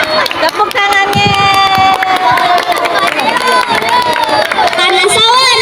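A crowd of schoolchildren at a school language-month event claps and cheers, a lively babble of young voices and shouts with scattered clapping, loud and continuous across the clip.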